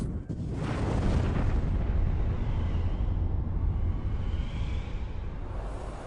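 A huge deep explosion representing the Big Bang, opening with a sharp burst and swelling into a sustained rumbling roar that stays loud and dense throughout, with no talk.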